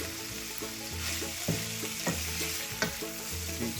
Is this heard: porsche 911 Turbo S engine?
no